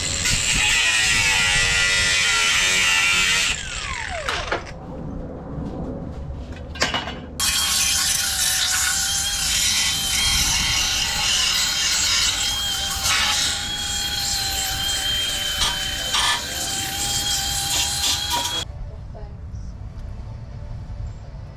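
A power tool trims the bumper support of a 1996–2000 Honda Civic during an intercooler fit, giving loud, harsh grinding bursts close by with a pause between cuts.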